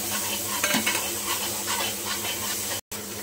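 Tomato stirred into ginger, garlic and green chili paste in a hot pan, a steady close sizzle under spoon scraping, with a brief gap of silence near the end.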